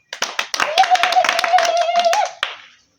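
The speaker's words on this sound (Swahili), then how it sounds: "Tumpigie makofi." School pupils clap to welcome their principal, about three seconds of quick, close, rhythmic hand claps with a voice briefly sounding over them before they stop abruptly.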